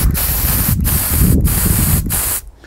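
A spray can of black primer paint hisses in four long, loud, steady bursts separated by brief pauses, each cutting off sharply, the last burst ending into near silence.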